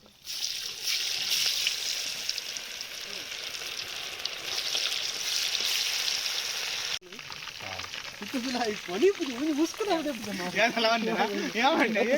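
Kebab frying in oil at a birthday party gives a steady, dense sizzle for about seven seconds, then quieter frying continues under voices talking.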